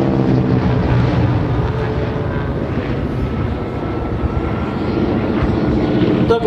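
A fixed-wing aircraft performs a barrel roll during an air show at Rygge, its engine drone loud and steady throughout with a broad rumbling roar that holds level from start to finish.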